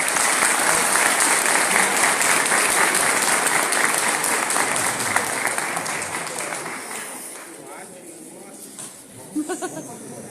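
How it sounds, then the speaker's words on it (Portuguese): Loud, dense applause from an audience at a talk during a colonial expo fair, sustained crowd clapping that gradually fades, with a few isolated claps near the end. "Uma salva de palmas mais uma vez para ti."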